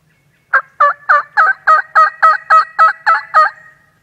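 Wild turkey gobbling at dusk outdoors, one loud close rattling call of about eleven rapid pulses over three seconds, alone against a quiet background.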